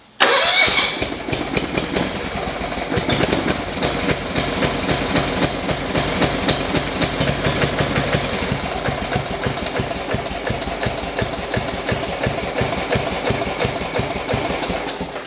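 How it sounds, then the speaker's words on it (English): A Toro engine cold-starts on choke at the first start of the season, catching abruptly and settling into a loud, steady, rapidly pulsing idle that runs on close by without any talking. "this is going to be a cold start video, first cold starts of the season"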